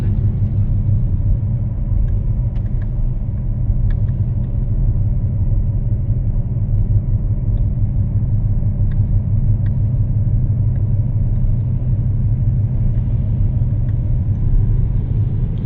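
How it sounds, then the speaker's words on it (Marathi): A car's engine rumbles steadily from inside the cabin while driving, a loud, even low drone lasting throughout with faint ticks above it and no clear speech. "मला खूप मजा येते गाडी चालवायला."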